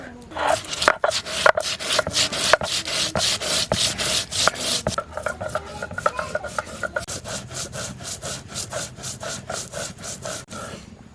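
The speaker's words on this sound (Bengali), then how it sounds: "ধনিয়া বেটে নেব।" Coriander seeds ground on a flat grinding stone with a stone roller, a steady series of loud rhythmic rasping back-and-forth strokes close up, with no voices.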